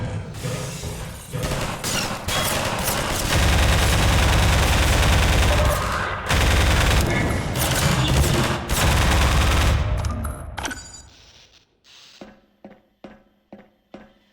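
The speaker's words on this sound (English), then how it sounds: "I should just keep using the assault rifle" Sustained assault rifle fire in Half-Life 2 rattles loud and close for about ten seconds, a dense automatic barrage that breaks off into a short trail of separate, fading single bursts.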